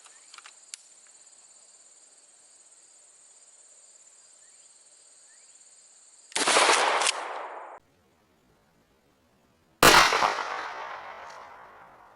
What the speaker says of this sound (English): Let's take a shot.